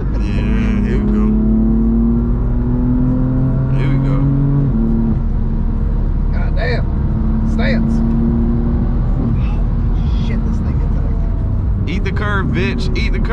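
Car pulling a third gear roll on the road, a loud continuous engine drone rising in pitch, with people talking and shouting over it throughout.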